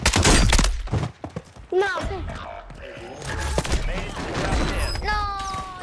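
Gunfire from Call of Duty: Warzone opens with a loud, close burst of rapid shots, then scattered thumps follow under in-game voices and chatter.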